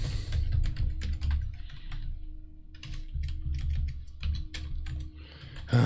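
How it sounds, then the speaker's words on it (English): Typing on a computer keyboard by someone wearing a wrist brace: bursts of close, uneven key clicks with short pauses between runs, fairly loud and with no talk. "it's a bad wrist day, so my typing is going to be worse than usual"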